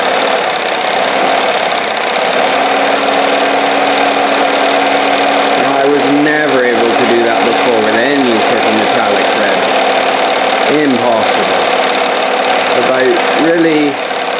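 Sewing machine running at full speed while stitching with metallic thread, a steady mechanical whir held under a voice talking throughout.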